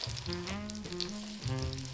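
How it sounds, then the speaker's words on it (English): Patties pan frying on medium heat, a steady, close sizzle and crackle of hot oil running throughout without a break, with no talk over it. "I then pan fry the patties on medium heat for around 4 to 5 minutes on each side"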